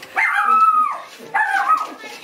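Dog giving two drawn-out, whiny yelping barks close by, each lasting well under a second, loud and clear with no talk over them.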